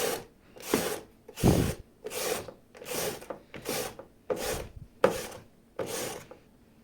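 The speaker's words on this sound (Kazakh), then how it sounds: "Келесі кезекте сәбізімізді осындай сәбіз өткіштен жақсылап өткізіп аламыз." Carrots rasp across a metal carrot grater, eight rhythmic scraping strokes about one per second, each a short raspy burst, close up with no talking.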